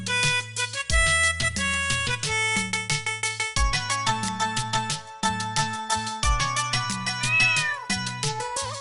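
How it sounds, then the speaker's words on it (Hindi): Repeated meows ring out over a bouncy Hindi children's rhyme with strong bass and melody, the meowing loud and rhythmic. "बिल्ली करती म्याऊं"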